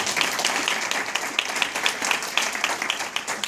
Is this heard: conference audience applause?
yes